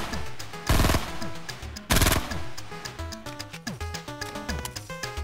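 Video-game gunfire: two loud rapid bursts of automatic fire, then a run of quieter, evenly spaced single shots, with no speech.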